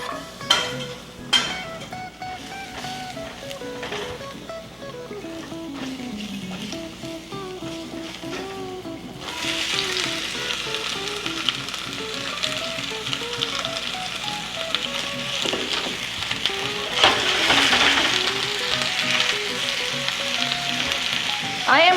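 Chopped onion sizzles and fries in about two tablespoons of oil for Japanese beef curry, a continuous crackling hiss that grows brighter and busier partway through, with occasional stirring and music playing alongside.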